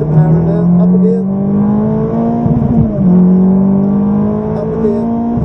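A Ferrari F430 engine revs hard on the Silverstone circuit, its pitch climbing and then dropping with each upshift. A rising whine stays loud throughout, with a clear gear change midway.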